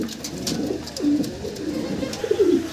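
Lahori pigeons coo in short, throaty rolling calls at close range, two or three clear phrases over a light background.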